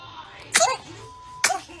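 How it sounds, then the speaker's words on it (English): A baby sneezes twice, each one a short, sharp burst spaced about a second apart, close and fairly loud, with no one talking over them. "Is that a good sneeze?"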